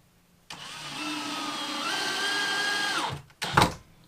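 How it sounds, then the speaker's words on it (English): A power driver spins a Phillips head screw down to secure a Rockler T-track on a miter saw station, giving one steady whirring run of about two and a half seconds followed by a brief second burst. "now I'm just going to secure this with some Phillips head screws"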